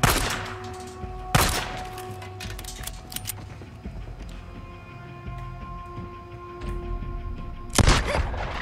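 Gunfire in the open-world zombie game Days Gone: a couple of sharp, loud shots stand out early and near the end, over a steady rumbling game soundscape with faint tones.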